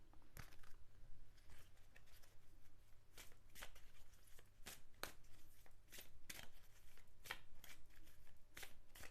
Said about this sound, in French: je vais commencer par bien mélanger les cartes